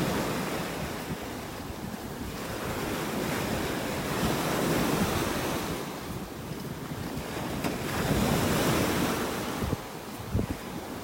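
Ocean surf rolls onto a beach in North Naples, Florida, in a continuous loud wash of breaking waves, swelling and easing in slow surges, with wind buffeting the microphone.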